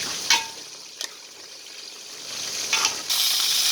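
Cabbage being stirred into a pan of sop-sopan with a little added water, a soft bubbling hiss broken by a few spoon scrapes and clinks, then a louder rush of sizzling at the end.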